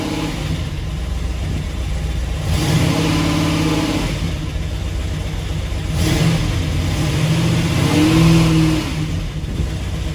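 Oldsmobile Cutlass engine revving up to around 2,000 rpm in two smooth surges, each rising then easing back to a steady idle, loud and close with no talking.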